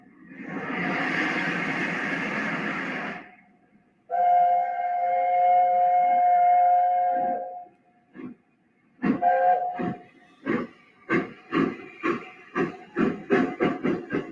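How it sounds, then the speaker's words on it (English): An LNER A4 steam locomotive sounds a loud chime whistle, then begins chuffing, the exhaust beats starting slow and quickening as it pulls away. "let's take a look at an example of the sound of an A4"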